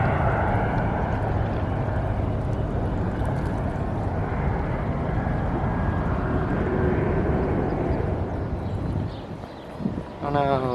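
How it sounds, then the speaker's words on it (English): A plane landing at an airport near Flushing, New York roars loud and steady overhead as a broad rumbling wash that fades slightly near the end, with a voice faintly underneath. "Every 10 seconds, another plane makes its landing."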